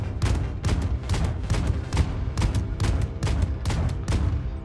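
The basic ship gun in the space game Void Crew fires a rapid, loud, steady burst of repeated booming shots with no pause across the whole stretch.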